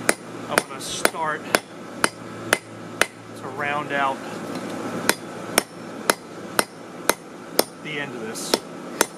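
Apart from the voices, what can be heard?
blacksmith hammering a railroad spike on anvil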